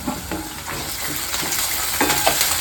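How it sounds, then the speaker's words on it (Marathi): Tomatoes fry and roast in a pan for a Maharashtrian breakfast, with a steady close sizzle and repeated scraping stir strokes at a loose rhythm throughout. "चांगलं तांबूस रंगावर भाजून घ्यायचं."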